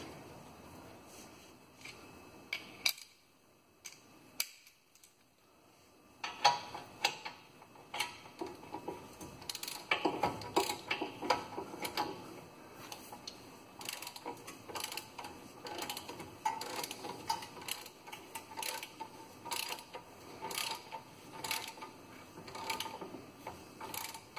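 A ratchet fitted with an impact socket works the front brake bolts of a 2010 Hyundai Accent. Bursts of quick mechanical clicking come and go over a quiet garage background, and no one talks.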